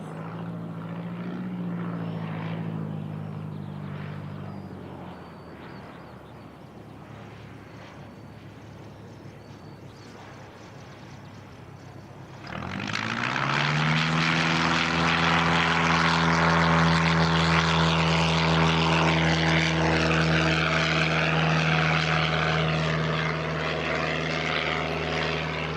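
A small propeller aircraft comes in to land at Christchurch Airport, New Zealand, with a steady droning propeller hum that dips mid-clip and then swells louder and closer with a strong, sustained engine roar and harmonic whine, no talk.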